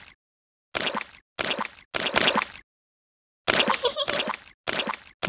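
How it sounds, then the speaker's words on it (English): Repeated splashing of cartoon characters jumping in muddy puddles in a Peppa Pig video game, arriving as six short wet bursts separated by brief silences, loud and close with no talk. "Look at all that splashing!"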